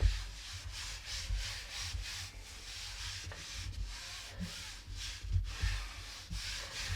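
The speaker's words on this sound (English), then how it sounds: "make sure that I rub that all over as well on that back" Hands rubbing acrylic paint over the back of a piece, a soft repeated scratchy rubbing in uneven strokes, close and fairly quiet, with no voices.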